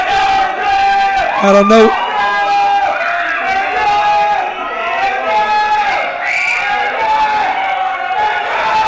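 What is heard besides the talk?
wrestling crowd cheering and screaming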